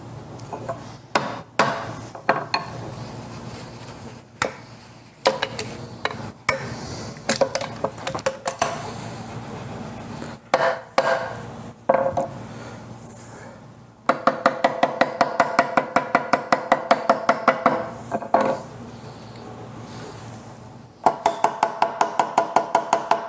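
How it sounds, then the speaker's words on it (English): Guitar frets hammered into a fretboard with a soft brass-faced hammer, sharp taps that come first in irregular bursts, then in rapid even runs of many quick blows, close and loud. "while I'm hammering, I don't deform the frets"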